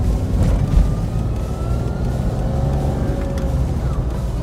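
A 2006 Toyota Land Cruiser engine, repaired after a misfire and power-loss problem, runs steadily at a close, loud idle with a smooth, even drone and no stumbling or dropouts.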